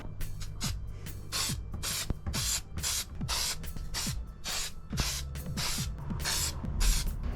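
Short bursts of aerosol spray paint laid on in light coats over an RC car body, roughly a dozen hissing pulses in steady rhythm, close and fairly loud with no talking.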